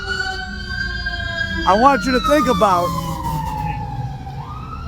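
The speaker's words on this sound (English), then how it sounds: "as the sirens go past" A fire engine siren wails as it goes past, its long rising and falling tone sweeping steadily downward in pitch, while someone talks over it briefly partway through.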